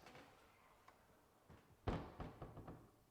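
A kitchen cabinet door swung shut during a quiet-close test, landing with one solid thunk and a few softer knocks and rattles after it, close by in a quiet room.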